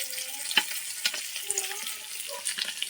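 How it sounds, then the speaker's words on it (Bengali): Fish frying in hot oil in a home kitchen, a steady soft sizzle running under scattered clinks and stirring sounds, fairly close and moderately quiet, with no talking. "এদিকে মাছটা ভালো করে ভেজে নেব।"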